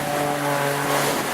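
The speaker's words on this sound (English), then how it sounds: "this aircraft is powered by a very small engine, 4 cylinders rated at about 180 horsepower" Small four-cylinder piston engine of about 180 horsepower on an RAF Tutor aircraft at an air show, droning steadily with sustained tonal harmonics throughout.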